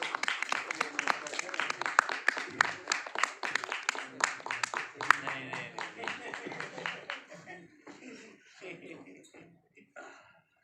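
An audience at a book launch claps to welcome the speaker. Dense, close hand-clapping runs for about eight seconds, then thins into scattered claps and a throat clear as it fades.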